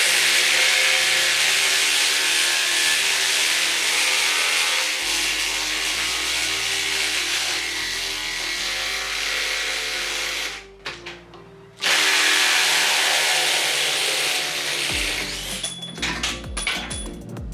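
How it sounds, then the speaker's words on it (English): DeWalt DCF850 impact driver sinking a 4-inch by 1/2-inch lag screw into the end grain of a 6x6 post, a loud, close, sustained hammering buzz that changes pitch as it bites, breaks off for a moment, then resumes. "to drive 4-inch by 1/2 inch lags into the end grain of the 6x6 up against the new DCF850"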